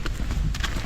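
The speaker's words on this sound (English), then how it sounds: "Walking a horse." Horse hooves clip-clop at a walk on a grassy path in Phuket, Thailand, a few close, uneven hoofbeats over steady low outdoor rumble.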